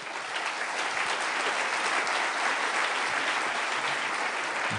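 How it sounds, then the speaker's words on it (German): Steady audience applause during a political speech, a broad continuous wash of clapping from a crowd, moderately loud and sustained throughout with no speech on top. "wenn es Ihnen hilft, klatschen Sie."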